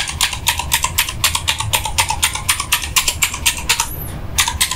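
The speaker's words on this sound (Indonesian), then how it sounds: "aku langsung klik aja keyboardnya" Rapid typing on a Digital Alliance Meca Fighter Ice Special Edition white-grey mechanical keyboard, a close, crisp run of clacky key presses in an uneven rhythm with one brief pause near the end.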